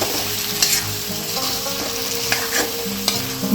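Potato pieces frying in a pan with turmeric and salt for an Andhra-style potato fry, stirred with a spoon, giving a steady close sizzle under scraping stir strokes.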